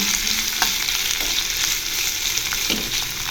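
Steady, loud sizzling of onions frying in hot oil, with a few soft scraping stirs breaking through the crackle.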